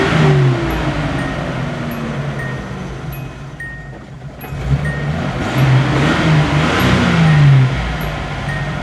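A 1980 Datsun 280ZX engine in need of a tune-up revs from a rough idle, its mid-pitched drone rising and falling twice as the throttle is blipped, loud and close with no voices.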